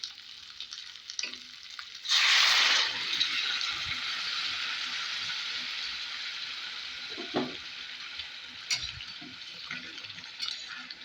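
Hot water poured into chicken cooking in a pan, a sudden loud hissing burst followed by continuous sizzling and bubbling, with occasional utensil clinks.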